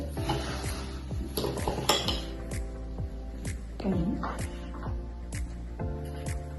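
A spoon stirring salt into cold water in a vessel, heard as repeated metallic clinks and taps, close and fairly regular, with a voice speaking partway through.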